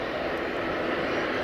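easyJet Airbus A319 departing Edinburgh Airport, heard as a brief, steady engine rumble at moderate distance.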